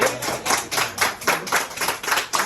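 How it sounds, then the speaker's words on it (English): Applause for a birthday at Super Nintendo World, Universal Studios Hollywood, with a crowd clapping in loose, fairly steady bursts that carry on throughout. "Can I get a round of applause, please?"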